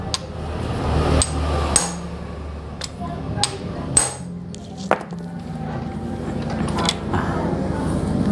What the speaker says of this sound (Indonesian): Kalau kita nggak pakai impact, kita getok menggunakan obeng getok seperti ini.